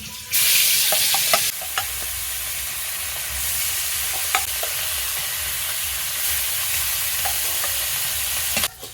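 Hilsa fish sizzle and crackle in hot oil in a kadai, a constant frying hiss broken by several sharp clinks of a spatula against the pan.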